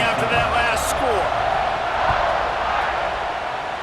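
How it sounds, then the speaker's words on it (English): A stadium crowd in the video game EA Sports College Football 26 buzzes with a dense, continuous roar of voices that stays loud and even throughout. "this crowd is buzzing after that last score"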